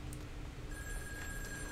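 A phone rings in the video game In Sound Mind, a faint electronic trill from inside the game heard briefly over quiet room tone.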